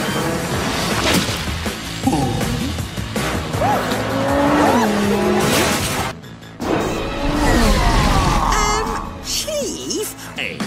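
A cartoon car roars and speeds off with loud squealing tires, high whining screeches and a skidding rush that continue over several seconds, broken by a brief gap and then resuming with more squeals under animated voices.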